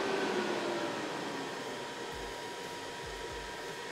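GPU mining rig built on 3060 Ti cards, fans turned down to barely spinning, leaving a steady broadband whoosh and power supply hum, close and unchanging, with a few low thumps near the end and no voices.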